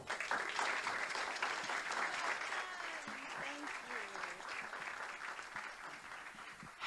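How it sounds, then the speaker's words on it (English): Audience applause at a formal policy event on the Middle East, steady clapping from a large crowd with a faint voice briefly audible underneath, fairly quiet and distant throughout. "Another round of applause for her."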